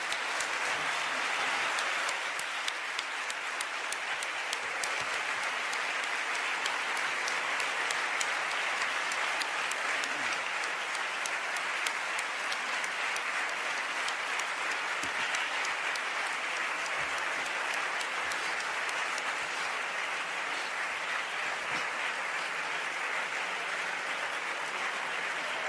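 Audience applause after a lecture by Slavoj Žižek, long, steady clapping from a large crowd that continues unbroken and evenly loud for nearly half a minute.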